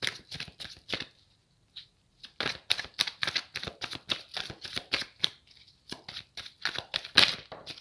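Tarot cards shuffled by hand: quick crisp riffling bursts, close and clear, with a short pause before the rapid flutter resumes, no voices.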